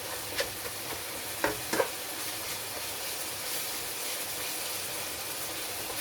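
Minced beef browns in its own oil and fat in a pan, giving a steady, close sizzle and hiss, with a few sharp scraping stirs early on.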